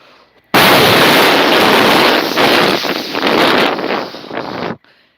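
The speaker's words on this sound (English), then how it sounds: "Came the crash of a 152 millimeter artillery shell, blasting some 550 or so odd meters to their north" A 152 millimeter artillery shell explosion: one loud, roaring blast that starts abruptly and holds as a dense, rumbling wash for about four seconds before cutting off, with no talk over it.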